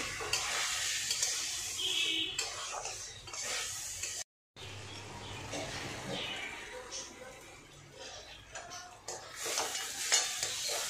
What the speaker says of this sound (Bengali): চালটা দিয়ে মশলাটা ভালো করে কষে নেব।